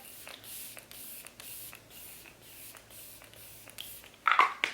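Several short hissing bursts of a makeup setting spray, evenly spaced misty pumps at close range, ending in a louder closer spritz, alone without talking.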